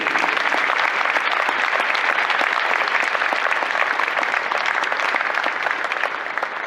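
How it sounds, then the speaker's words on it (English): Dense, sustained applause from an audience at a university sports hall of fame induction ceremony, steady and close throughout. "Please join us in a round of applause for 2022 inductee, Marilee Hohmann."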